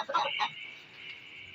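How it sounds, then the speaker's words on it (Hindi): An aseel rooster in a pet house lets out a short pair of clucking calls close by, then fades into quiet room noise. "ये माशाल्लाह से हमारा बहुत ही अच्छा मुर्गा है, बहुत ही हाई क्वालिटी का मुर्गा है"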